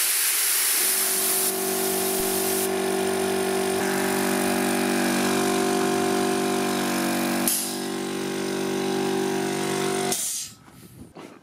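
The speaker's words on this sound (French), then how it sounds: "maintenant, on va démarrer les deux compresseurs à 6 bar." Two air compressors start together at 6 bar, powered by a solar power station, producing a loud, steady motor drone with a strong tonal hum and broadband hiss for about ten seconds before cutting off.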